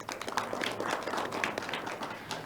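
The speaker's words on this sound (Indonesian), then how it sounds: "Boleh tepuk tangan kembali?" A studio audience at a regional parliament dialogue forum applauds steadily, with a dense patter of many hands clapping at moderate volume and no talk over it.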